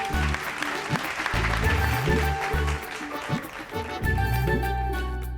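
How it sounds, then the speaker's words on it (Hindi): An audience applauds after a puppet show performance, scattered clapping mixed with music tones and some rhythmic thumps, moderately loud and continuous throughout. "दे ताली।"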